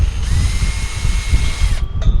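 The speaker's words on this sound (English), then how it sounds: "when you go to drill, your drill bit likes to walk with you" A power drill bores a hole in a pipe, whining steadily at high speed for more than a second and a half before spinning down, with a low rumble throughout.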